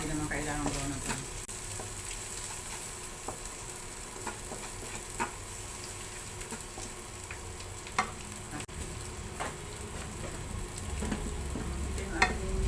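Garlic and onion sauté in a pan for chicken adobo, giving a steady close sizzle with occasional clinks and scrapes of stirring. A voice speaks intermittently over the frying.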